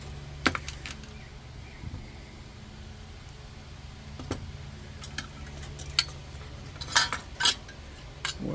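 Small metal parts of a Canadian 505 stove burner clink and tap as they are put back together, scattered light knocks and rattles with quiet gaps between them, close and fairly faint.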